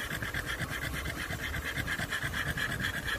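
A dog pants rapidly and steadily, close up, with quick rhythmic breaths continuing throughout and no voices.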